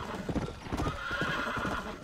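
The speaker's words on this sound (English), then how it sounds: "This horse sucks." A horse in Red Dead Redemption clops along with quick, rhythmic hoofbeats and lets out a whinny, close and moderately loud, with no talking over it.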